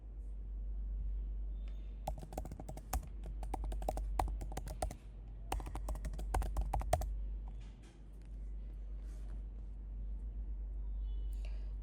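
Fingers type on a computer keyboard during ERP software data entry: bursts of fast, close key clicks over a steady low hum, pausing and resuming, with no talk.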